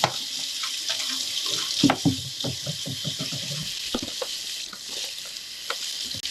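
Tap water runs steadily into a sink while an air filter is rinsed under it, with clicks, splashes and handling knocks breaking through the continuous hiss.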